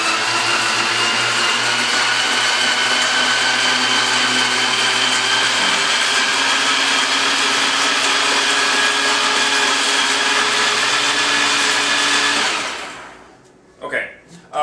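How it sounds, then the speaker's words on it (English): A food processor whirs loudly and steadily, blending Caesar salad dressing with cheese and liquid ingredients, for about twelve seconds before winding down and stopping, followed by a couple of faint knocks. "What I'm going to do is give this a couple hits in the food processor."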